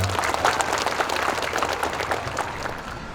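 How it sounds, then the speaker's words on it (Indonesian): Audience applause at an official ceremony in Subang, West Java, a dense steady wash of many hands clapping, fairly loud and sustained throughout with no voices over it. "Tepukan."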